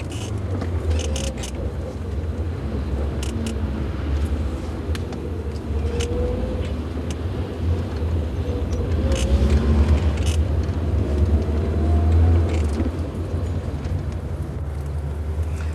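A car drives along with a steady low road and engine drone, a faint swell partway through and occasional light clicks and rustles inside the cabin, with no speech.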